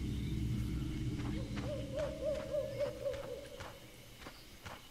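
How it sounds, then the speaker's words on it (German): Eagle-owl hooting in the Len's Island survival video game, a series of low, soft hoots repeating steadily over a constant rumbling ambient background. "Uhu."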